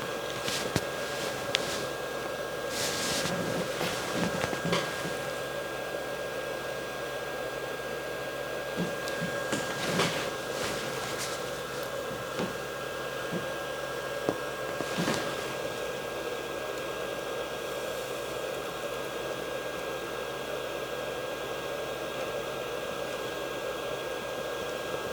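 A hot air rework tool blows onto a 24C128 EEPROM on a Vauxhall Astra CD400 car radio, a steady, loud rushing hiss with a few faint clicks scattered through it.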